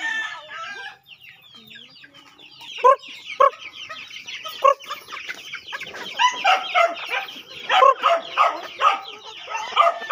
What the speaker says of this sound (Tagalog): At saka yung mga manok guys, pinakawalan ko muna.